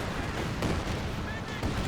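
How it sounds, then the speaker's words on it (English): An artillery barrage in Company of Heroes 2 pounds a garrisoned building, producing a dense, continuous rumble of overlapping booms and blasts that stays loud and steady throughout. "The garrison will go down to this barrage."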